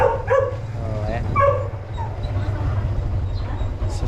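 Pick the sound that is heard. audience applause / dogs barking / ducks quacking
dogs barking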